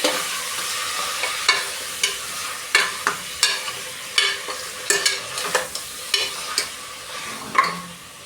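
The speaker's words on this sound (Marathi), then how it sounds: "आपण आता ते चाळून घेऊ।" Village-style spicy mutton masala fries in a pan while a spoon stirs and scrapes it in steady repeated strokes over a continuous close sizzle, with no voices.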